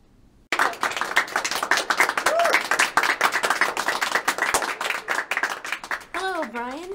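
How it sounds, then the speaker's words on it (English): Audience applause and clapping for a guest on a podcast, a dense burst of many hands lasting several seconds before fading as a voice begins speaking near the end. "Round of applause for her tonight."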